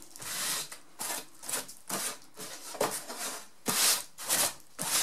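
A damp cloth wipes across a small wooden fruit crate, making repeated close scrubbing and rubbing strokes in an irregular rhythm with short pauses between passes, clear and alone with no talking.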